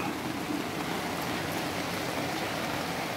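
Rain falling steadily in Aparecida de Goiânia, an even, continuous hiss with no distinct drops or breaks and no voices.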